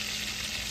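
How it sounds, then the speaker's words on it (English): Burger's Smokehouse bacon fries in a pan with a brief, soft, steady sizzling hiss and no voices. "It's frying up nice."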